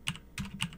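Three quick, crisp clicks on a computer keyboard, close and fairly quiet, spaced evenly in under a second.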